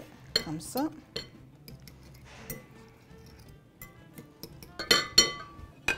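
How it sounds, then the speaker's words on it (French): A utensil clinks against a bowl or pot while broth is mixed into couscous, with scattered sharp metallic and ceramic taps and a brief spoken comment. "Je vais verser ce bouillon-là sur mon couscous. Je vais mélanger un petit peu,"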